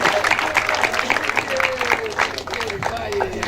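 A crowd claps continuously at a Brazilian talk-show anniversary special, dense and fairly loud, while a person talks over it.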